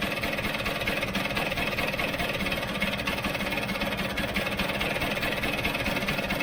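A Vespa GS scooter engine idles steadily at close range with the airbox off, a constant rough mechanical hum and fast ticking running unbroken throughout with no talk.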